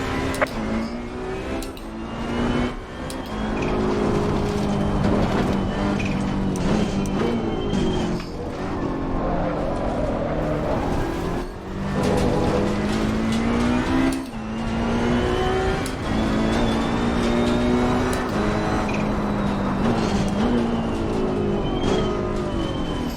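Ferrari 488 Challenge Evo race car engines in Assetto Corsa Competizione at Oulton Park, a loud continuous roar that climbs and drops through repeated upshifts and downshifts, with another car's engine close by.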